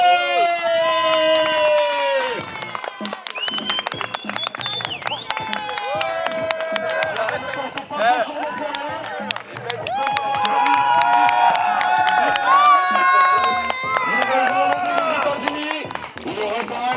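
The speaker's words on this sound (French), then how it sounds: "Applaudissez El Malouche" A pro wrestling crowd at a CWF show cheers and claps for the wrestler El Malouche with loud, sustained shouting, whoops and rattling applause that rise and fall across the whole stretch.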